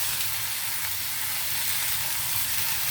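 Tomatoes and ivy gourd pieces tossed into hot oil give a loud, steady, dense sizzle that hisses without pause, close up and with no talking.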